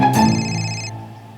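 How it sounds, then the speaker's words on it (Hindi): A telephone ringtone sounds one bright, melodic burst of tones, close and clear, then cuts off as an incoming call arrives. "रोज इसी टाइम फोन करके मुझे डिस्टर्ब करते हैं।"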